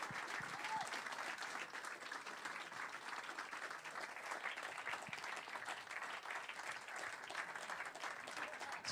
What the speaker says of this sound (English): It's quite a lot of applause